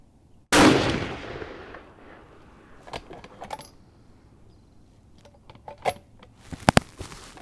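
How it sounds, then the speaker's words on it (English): A single loud, close rifle shot from a Mausingfield bolt-action rifle at an outdoor shooting range rings out and decays, followed by scattered metallic clicks and clacks of the action being worked. "I'll just shoot a group here."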